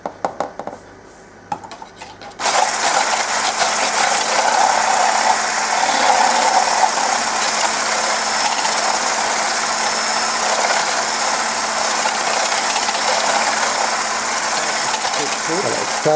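After a quiet start, an electric mixer whirs steadily and loudly, beating meringue with sugar for macarons, a continuous high buzzing hum that holds for the rest of the stretch.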